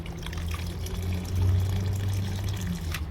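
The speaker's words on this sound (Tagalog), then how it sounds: "Yan o, tumutulo pa yan o." Water draining from a hose with a small hose still siphoning and dripping, a continuous close gurgling trickle with low rumble beneath.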